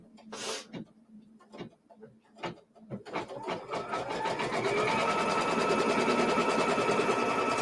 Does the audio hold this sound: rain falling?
no